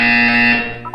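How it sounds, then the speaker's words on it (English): Steady electronic alarm buzzer from Portal 2, a loud sustained tonal drone with bright harmonics, heard alone for about a second before it cuts off. "When you hear the buzzer, look down at the floor."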